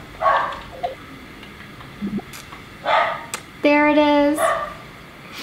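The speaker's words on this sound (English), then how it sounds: "my dogs are crazy" Dogs barking in a house while someone plays a video game, a few sharp yelps scattered between bursts of talk and game sounds, with one longer whining, harmonic cry near the end.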